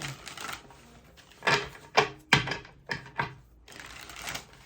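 Tarot cards shuffled by hand in a quiet room, several crisp riffling bursts and soft papery slaps in an uneven rhythm, close and moderately loud with no talking.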